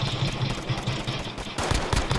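Rapid video game gunfire, a dense rattling burst of automatic shots that grows louder and harsher toward the end, with no talking over it.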